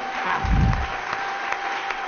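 A church congregation applauds to welcome a pastor, a fairly loud burst of clapping that swells briefly and then settles into steadier, thinner applause.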